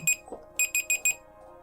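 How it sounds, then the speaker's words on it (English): An alarm clock goes off with bright electronic beeps, one lone beep followed by a rapid run of four evenly spaced beeps, loud and close, with a faint low murmur beneath. "that's my alarm."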